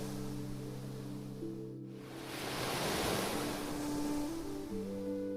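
Atlantic surf rolls and crashes off the Irish coast, a broad continuous wash that swells to a peak midway, with steady tonal music playing underneath throughout.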